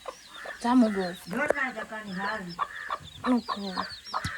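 Hens and a rooster cluck around a mud house in rural Konkan, repeated nearby clucks and calls in an uneven rhythm, mixed with people talking.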